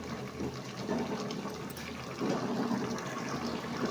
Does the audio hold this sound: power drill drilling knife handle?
no